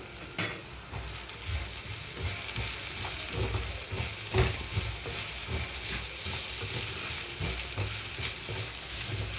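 Pieces of ivy gourd (tindora) fry in a pan with chili powder, giving a steady crackling sizzle with occasional stirring scrapes and no talking.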